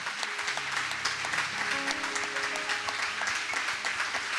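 Loud, continuous applause from a church congregation fills the whole stretch, steady dense clapping with a sustained tone of music or organ beneath it.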